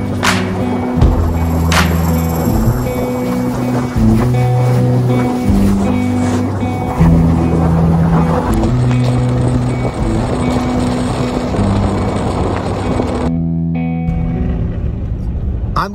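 Four-wheel-drive vehicle on Radar Renegade R/T tires rolling over a slick, frozen and melted snow-covered icy road, a loud steady engine drone with tire and road rumble from inside the cab, shifting in pitch as it goes.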